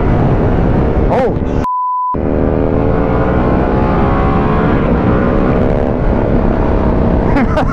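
A Harley-Davidson Pan America motorcycle on its stock exhaust, ridden on the road: a steady, loud engine rumble with wavering harmonics, cut briefly by a short electronic beep early on.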